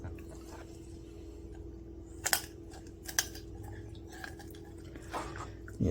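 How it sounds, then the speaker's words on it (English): Kitchen scissors cut through a garlic-butter roasted chicken, giving a few sharp snips and crunching clips spaced several seconds apart over a quiet background hum, with no voices. "These scissors just might not be good enough to do this."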